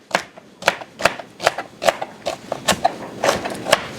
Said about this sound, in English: So I'm going to add 1 stalk of celery. Just cut it in rough cut.